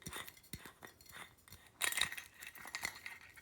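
A metal tumbler for sublimation clinks sharply a few times against a glass surface, with a cluster of bright knocks near the middle and a lighter tap after, over quiet handling noise.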